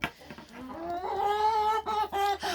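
A chicken close by gives a drawn-out, rising vocal call followed by a few short clucks, with no talking.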